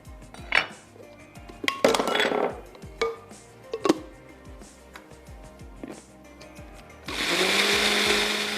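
Onion slices being ground in an electric grinder, a series of knocks and clinks as the jar is handled and loaded, then a loud steady motor whir starting for the final stretch, no talking.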